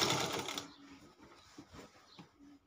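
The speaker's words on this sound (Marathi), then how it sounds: "आता आपण याला शिलाई मारून घेऊ." An electric sewing machine stitching a saree cover onto an old quilt, a short burst of fast mechanical whirring that stops after half a second, followed by quieter handling clicks.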